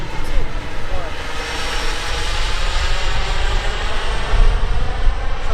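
A Sebart Mini Avanti turbine model jet flies past and sets up to land, giving off a loud, steady rushing roar with a hiss that surges slightly and never lets up.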